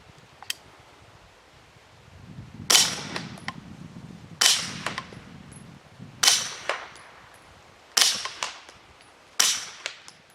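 A suppressed Grand Power SP9 A3 Stribog with roller-delayed action fires about five sharp, muffled shots spaced a second or two apart, each with a short decay, and no voices.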